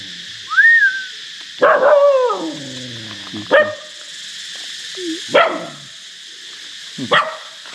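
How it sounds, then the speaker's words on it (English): A dog barks several times in sharp, separate bursts, close by, with short whines and whimpers between the barks. "She's afraid, that's why she barks."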